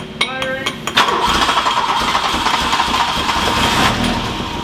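A 1984 VW Scirocco engine cranks with a few quick sputters, catches and settles into a rough, steady running note close by, under a person talking.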